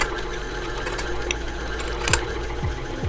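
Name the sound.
stand mixer kneading cinnamon roll dough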